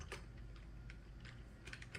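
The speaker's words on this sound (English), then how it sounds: "You press the shift button many times." Computer keyboard on an old Windows ME machine, with a key tapped repeatedly in quick, irregular clicks against a low background hum, no talking.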